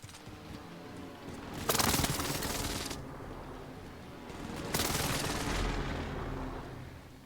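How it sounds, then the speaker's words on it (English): Video game airstrike in Rebirth, two loud rumbling explosion bursts a few seconds apart over a steady background of distant gunfire and ambient noise, no talk. "How about an airstrike here?"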